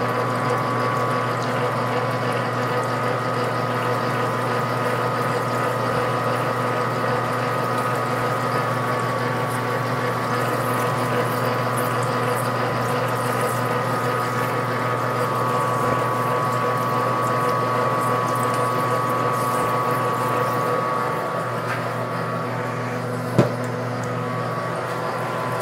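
A metal lathe runs steadily while turning a part, giving a continuous mechanical whir with a constant motor hum and gear whine, unbroken for the whole stretch, with one sharp click near the end.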